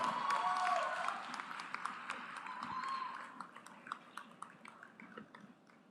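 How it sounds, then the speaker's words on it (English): Applause breaks out at a university convocation for the Master of Arts candidates, a crowd clapping loudly at first, then gradually thinning into scattered individual claps as it fades. "Huge round of applause for all the Master of Arts"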